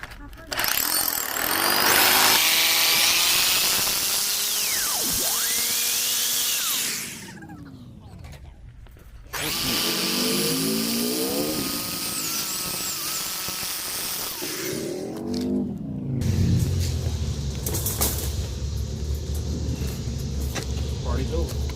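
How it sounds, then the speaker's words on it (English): A power drill whirs in loud bursts, revving up and down, with a vehicle engine and voices in the background. "Let me drill this real quick."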